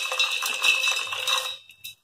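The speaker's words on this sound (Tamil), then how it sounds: "இந்த மிக்ஸி ஜாரில் இந்த கடலை போட்டுறேன்." A quick cascade of peanuts clattering into a metal mixer jar, a dense rattling pour lasting about a second and a half, then a couple of stray taps.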